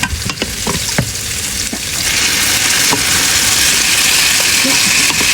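Cooked kale stirred into a hot pan for a coconut-milk vegetable dish, giving a loud, steady sizzle and frying hiss with a few sharp scrapes of the utensil early on.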